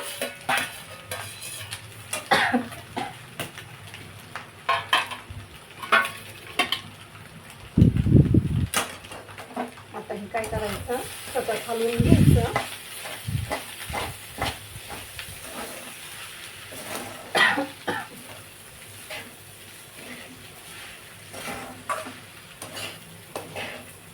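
A spatula scrapes and stirs egg bhurji with onion and coriander in an oily pan, close rhythmic scraping and clinks over a faint sizzle, with a few brief louder bursts.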